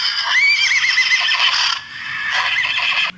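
A king's horse whinnies loudly and long near a farmer's field as he rides past, then a second shorter neigh follows, with faint hooves beneath and no talking.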